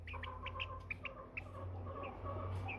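A young American Bresse chicken, a chunky bird hatched from the bigger egg, clucks while being weighed on a scale: a quick string of short, close clucks and chirps over low background hum, with no talking.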